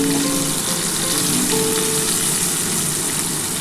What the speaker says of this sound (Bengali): এই তেলের মধ্যেই পেঁয়াজটা দিয়ে দিলাম।